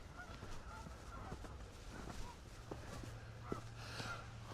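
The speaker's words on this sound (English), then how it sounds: "The geese are back" Several geese honk at intervals at Locks 20 and 21 of the Trent-Severn Waterway in Peterborough, over a low steady background hum, calls fairly faint and from a distance.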